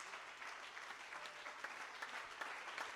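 Faint, steady applause from a church congregation greeting a prophet called to the front, a continuous wash of many hands clapping without talk.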